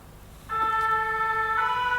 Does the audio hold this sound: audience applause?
no